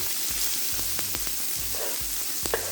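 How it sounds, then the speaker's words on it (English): Vegetables and chopped garlic with scotch bonnet pepper sauté in a pan for Jamaican brown stew fish: a strong, constant sizzle broken by regular low knocks of stirring, heard up close. "chopped garlic, and I'm just sauteing it just to get that burst of flavor. Now guys, I'm going in with the rest of my veggies"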